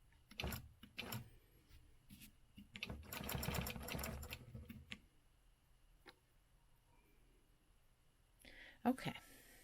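Sewing machine quilting along a Bullseye ruler: a few short bursts of rapid stitching, the longest around a couple of seconds, separated by quiet pauses and soft handling noises.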